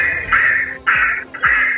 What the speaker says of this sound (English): So in this case it's a duck sound.